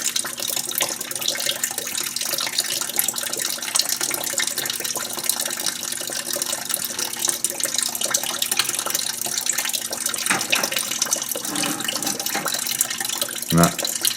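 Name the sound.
coolant draining from petcocks of a 1950 Buick Roadmaster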